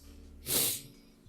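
A single short, breathy sniff close to the microphone, a quick hiss of air through the nose against a quiet background.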